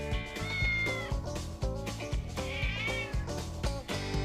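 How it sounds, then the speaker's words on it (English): A cat yowls and meows repeatedly outdoors, its strained cries rising and falling over a steady, busy background hum in a garage-like setting. "Hear my cat yelling outside?"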